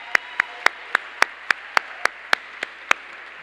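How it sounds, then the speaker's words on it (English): Steady, evenly spaced hand claps at an awards dinner, about four per second, crisp and close with no other sound, as if only one or two people are clapping. "Let's have a round of applause for both of them."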